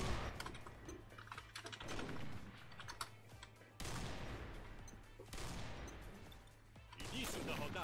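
Rapid gunfire bursts from the online shooter Combat Arms, dense and continuous, with abrupt cuts between sections and a steady low hum beneath.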